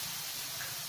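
Batter poured from a big spoon onto a hot, lightly oiled tava, giving a steady, fairly loud hiss that holds evenly for under a second.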